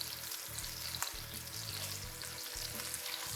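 Pieces of food sear in a hot pan over high heat while cooking a low-carb creamy chicken alfredo meal, giving a steady close-up sizzle and crackle throughout with no talking.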